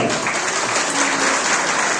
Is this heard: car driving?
no